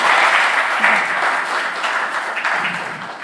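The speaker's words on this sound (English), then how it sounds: "big round of applause" Conference audience applauding steadily at a user conference, a dense wash of clapping that holds fairly even for a few seconds and eases slightly toward the end.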